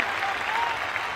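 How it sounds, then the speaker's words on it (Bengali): An audience claps loudly and continuously after a dance and song performance, a thick, even burst of applause with a faint crowd murmur underneath. "ভালো নাচ করেছে, গান করেছে, হাততালি হাততালি।"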